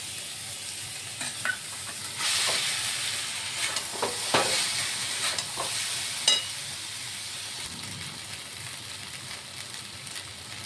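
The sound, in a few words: boiled pasta stirred into tomato sauce in a pan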